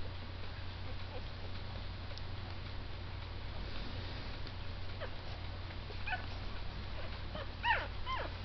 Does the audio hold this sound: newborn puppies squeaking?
yes